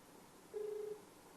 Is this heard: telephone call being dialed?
yes